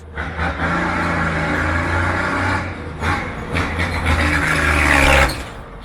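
A Ford D1210 truck engine and exhaust rev repeatedly, loud and close, with the deep exhaust rising and falling in several surges over steady idle.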